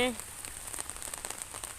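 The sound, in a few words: rain falling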